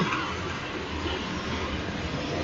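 A very long train rolls past nearby, giving a steady, dense rumble and rattle of wagons that holds constant throughout with no voices.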